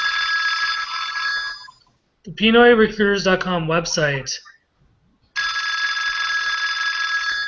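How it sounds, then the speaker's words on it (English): A mobile phone rings in steady, evenly spaced electronic trills, loud and close, with a gap in the middle where someone talks briefly before the ringing resumes. "Sorry, my phone still rings even after I close it. Hold on, it rings 4 times."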